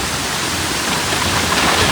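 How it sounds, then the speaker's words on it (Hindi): A water fountain splashes in a steady, full rush of falling water outdoors in Japan during rain, loud and continuous throughout with no voices. "यहाँ पर मेरे सामने एक बढ़िया सा वाटर फाउंटेन है"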